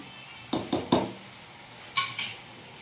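Onion and tomato frying in a pan with a low sizzle under sharp, close clinks and scrapes of a spoon, three quick strokes followed by two more after a short pause.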